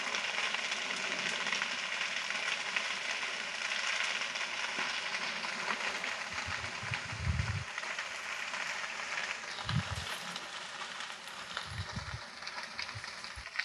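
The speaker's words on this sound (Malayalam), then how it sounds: "തീ അവിടെ നിന്ന് ഇങ്ങനെ കത്തി കത്തി വരുന്നുണ്ട്. കാറ്റുള്ളതുകൊണ്ട് ഭയങ്കര ശക്തമായിട്ട് കത്തുന്നുണ്ട്." A hillside fire burning strongly in the wind, a dense continuous crackle and hiss throughout, with occasional low gusty rumbles toward the end.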